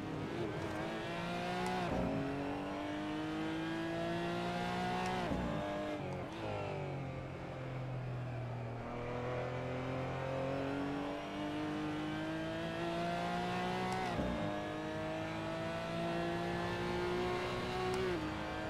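Porsche GT4 Clubsport race car engine in a sim racing game at the Nurburgring, revving steadily with rising and falling pitch through gear changes, loud and continuous with no talk.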